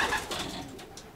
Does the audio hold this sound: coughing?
no